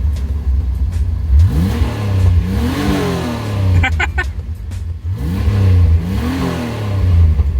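Engine of a cheap fake Lamborghini replica revving in repeated rising and falling sweeps, loud and close, with a voice talking over it.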